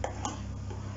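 Apricot custard stirred in a pot with a spoon: a couple of light metallic clinks over a steady low hum, soft and close, with no talking.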